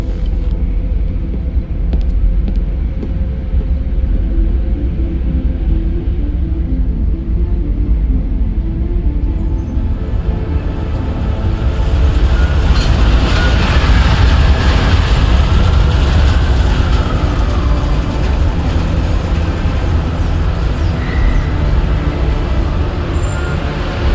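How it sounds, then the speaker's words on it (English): In the video game Deus Ex: Mankind Divided, a train pulls into a station with a loud, continuous low rumble and engine drone that holds steady throughout without speech. "Just getting off the train now."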